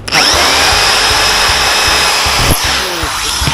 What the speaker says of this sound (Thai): เจาะ2รูนะครับ การเจาะ